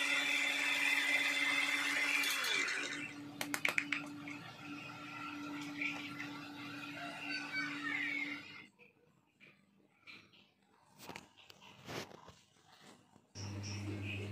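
A mixer grinder whirs loudly as it grinds a dry spice mix in short runs, a steady motor drone with rattling bursts for about eight seconds, then stopping into quieter handling clatter before a brief restart at the end.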